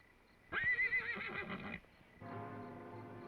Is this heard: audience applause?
no